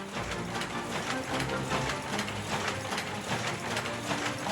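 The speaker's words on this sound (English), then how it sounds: "when one observes a jacquard loom in operation" A steam-powered jacquard loom weaving at full tilt, a dense, continuous clatter of ratcheting, gear-driven mechanism with steady rapid beats, loud and close with no voices.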